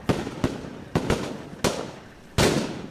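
Gunshots during a military operation in hostile terrain, five sharp reports spread over a few seconds, each loud and echoing with a trailing decay, and no talk.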